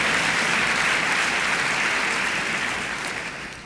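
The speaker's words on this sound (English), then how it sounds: "You can clap at that, because it is ironic." An audience at a book awards ceremony claps in a dense, sustained burst of applause that stays loud and fills the hall, easing slightly toward the end.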